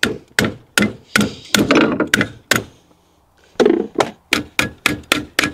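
Sharp metallic blows from a car jack used as a hammer land one after another, a rapid run, a brief pause, then another quick series of loud close strikes.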